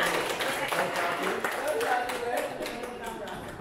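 Applause from an audience at an art and technology event, a round of clapping mixed with loud chatter and voices from the crowd.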